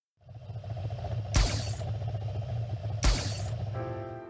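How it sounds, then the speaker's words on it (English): Rocket League 2016 Batmobile zero boost effect in the video game: a low rumbling engine bed broken by two sharp bright whooshing bursts, closing with a short tonal chime. "This is what the unique zero boost sound effect sounds like."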